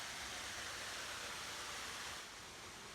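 A waterfall on Mount Kenashi in Shizuoka, seen on an early-summer mountain hike, pours as a steady broadband rush that eases slightly near the end, with no voices.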